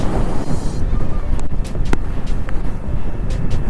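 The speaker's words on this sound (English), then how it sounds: "It is windy out here." Strong outdoor wind buffets the microphone beside a parked 2017 Suzuki Hayabusa motorcycle, giving a loud, continuous low rumble with gusty surges and a few brief knocks.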